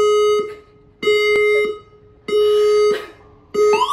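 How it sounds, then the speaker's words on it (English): A fire alarm test sounds in repeated loud electronic tones, about a second long with short gaps between them, piercing and close, in an apartment. "My fire alarm was going off, but it was only a test."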